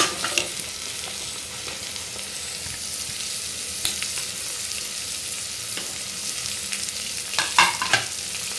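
Onion and carrots for prawn rice are sautéed in a pan, giving a continuous frying sizzle with scattered spatula scrapes and a brief cluster of clatters near the end, close and without speech.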